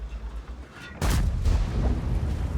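A tank's main gun fires in a tank video game set in Berlin, with a sudden loud, deep boom about one second in that rolls into a sustained low rumble, with no talk.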